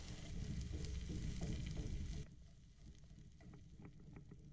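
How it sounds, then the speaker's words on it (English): Scrambled eggs cooking in a cast iron pan on a Weber kettle grill, alongside leftover steak and vegetables, give a steady sizzle that drops sharply in loudness partway through and continues as softer crackling and popping. "Pour the scrambled eggs into the pan and try to keep them separate from the vegetables and meat until they're scrambled."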